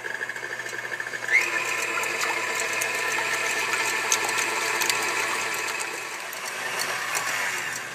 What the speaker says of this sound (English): And I'm going to whisk these until they form soft peaks.